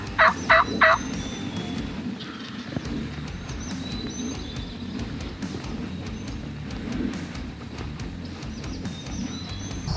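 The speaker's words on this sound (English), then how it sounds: "We had two birds behind us gobbling, one to our right gobbling" A wild turkey gobbles once in a short rattling burst at the start. Only quiet outdoor woodland ambience with faint bird chirps follows, during a North Carolina turkey hunt.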